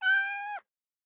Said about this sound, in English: I seem to have heard a cat from meowing from downstairs.